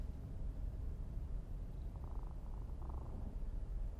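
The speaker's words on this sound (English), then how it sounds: "It's purring. Can you hear her?" A pet cat purring at home, a soft, steady low rumble close by that continues unbroken throughout with no voices.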